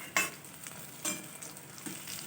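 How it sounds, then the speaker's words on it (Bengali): Pieces of rohu fish being lifted out of hot frying oil, a soft steady sizzle broken by three brief clinks of a utensil against the pan, close and quiet. "মাছগুলো আমার ভাজা হয়ে গিয়েছে। এরপর আমি মাছগুলো নামিয়ে নিচ্ছি।"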